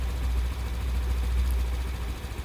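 Honda Beat scooter engine running with light rollers, a steady low hum close by with no talking.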